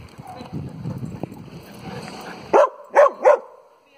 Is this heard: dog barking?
yes